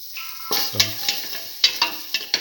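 Garlic, two green chillies and salt sauteing in a pan, with a soft sizzle broken by several sharp scraping stirs and light clinks of a utensil against the pan, close and moderately loud.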